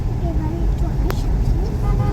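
A car horn sounds in short toots on a road trip between Omkareshwar and Maheshwar, over the rumble of the car and road noise, with muffled voices inside the vehicle.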